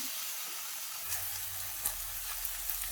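Ground ginger-garlic masala paste sautés in a pan, giving a soft hissing sizzle over a faint low hum, with a couple of light stirring scrapes.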